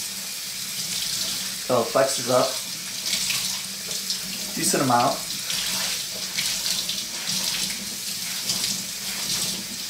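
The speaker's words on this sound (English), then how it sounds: "We're going to put the water on hot." Hot water runs steadily from a tap into a sink as a continuous hiss and splash, with a person speaking briefly over it.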